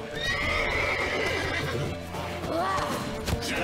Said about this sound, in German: Das ist ein Pferd hier!